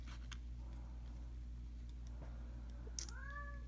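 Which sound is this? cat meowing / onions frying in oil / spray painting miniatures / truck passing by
cat meowing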